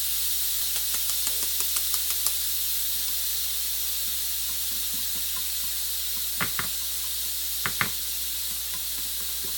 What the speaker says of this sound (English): So he's going to whisk that flour in.